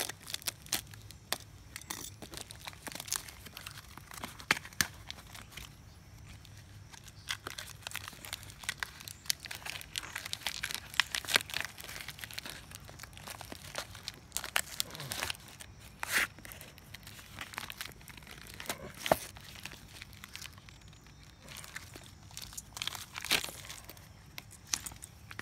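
Plastic packaging of a Coleman stove propane conversion kit being cut and torn open, with steady crinkling, crumpling and tearing close by and sharp rustles throughout.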